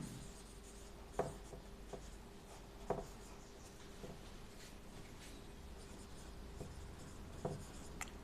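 Faint writing on a board during a physics lesson, with soft scratchy strokes and occasional taps spaced a second or so apart over steady room hiss.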